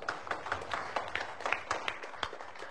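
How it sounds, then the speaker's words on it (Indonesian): Audience applause for the puppeteer at the close of a bawang merah bawang putih puppet show, a steady patter of claps at moderate volume with no talking over it. "Tepuk tangan untuk dalang"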